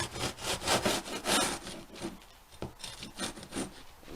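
A knife trims the edges of a baked génoise sponge cake, giving a steady run of close, rhythmic rasping strokes that soften midway, then continue more lightly, with no voices.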